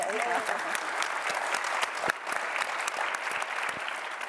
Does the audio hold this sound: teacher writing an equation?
no